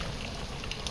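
Heavy rain falls in a steady, dense hiss, as if drumming on a roof or thatched surface, continuous and fairly quiet throughout.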